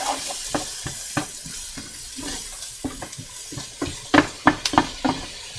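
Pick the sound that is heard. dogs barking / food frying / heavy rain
food frying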